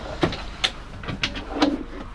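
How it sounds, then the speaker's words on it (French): A drawer slides open inside an Adria 640 SPB Supreme 2023 camper, giving several short plastic scraping and clicking pulses in an irregular rhythm, close by in a quiet interior. "Un deuxième tiroir."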